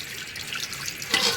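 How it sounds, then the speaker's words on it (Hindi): Water pours and splashes into a pot of Afghani Kabuli pulao, a brief bright gush that rises toward the end of the clip, close and clear with no talk. "5 गिलास पानी ऐड कर दिया है।"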